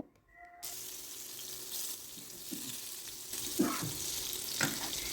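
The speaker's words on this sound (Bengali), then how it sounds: "তেলটাকে খুব ভালো করে গরম করে নিয়ে একে একে কাটা বেগুনগুলো দিয়ে দেব।" Cut eggplant pieces dropped into hot mustard oil set up a steady broadband sizzle, with a few louder splutters and clinks as more pieces go in; close and continuous with no talking.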